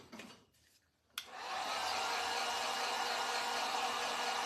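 A hair dryer drying a stencil on a craft tray: after a second of faint handling noise it switches on with a sharp click and settles into a loud, steady whooshing roar that runs unbroken to the end.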